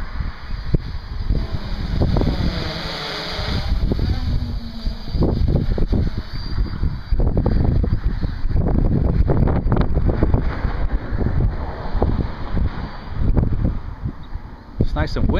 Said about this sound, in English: It's nice and windy this morning.